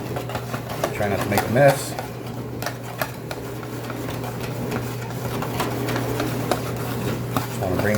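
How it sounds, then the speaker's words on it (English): An electric hand mixer whirs steadily as it whisks spicy hot wing sauce in a bowl, a constant motor drone with light clinks against the bowl, while someone talks briefly over it. "Got Mr. Mixer here. Whisk all this up."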